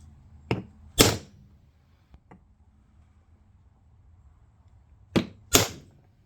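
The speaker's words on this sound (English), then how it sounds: "Now we're going to center punch where we want to drill the holes." A center punch struck against a metal bracket to mark hole positions, two close sharp taps near the start and two more a few seconds later, with faint clicks between.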